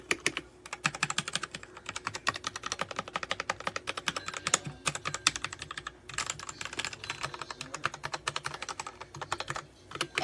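Rapid, steady typing on a DIERYA T68SE 60% mechanical gaming keyboard with stabilized keys, dense crisp clacks in quick bursts with brief pauses, close and clear with no talking.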